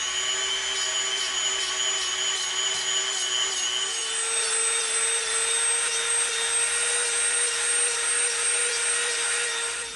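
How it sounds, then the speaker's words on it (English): A Dremel rotary tool with a rough bit grinds down EVA foam, a continuous high-pitched whine that holds steady and close for the full ten seconds, shifting pitch slightly partway through. "we have our Dremel out. We're gonna come in with our super rough bit and we're gonna take a bunch of this off"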